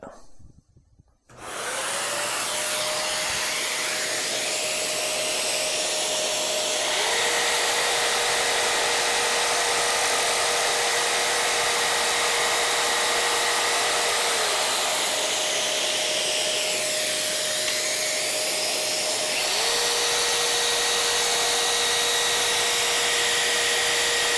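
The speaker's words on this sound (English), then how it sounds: "So once again, I'll fire up the dust extractor and we'll make the cut." A dust extractor roars loud and steady while a circular saw cuts laminate flooring, the saw's whine rising and easing over two long passes under the constant hiss of the suction.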